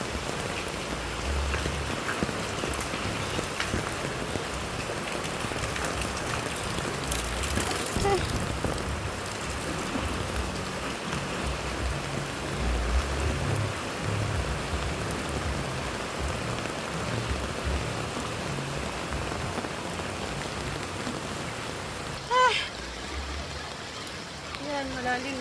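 Heavy rain pours continuously over a flooded area, a dense, even hiss of drops on surfaces throughout, with a brief voice and a small knock near the end.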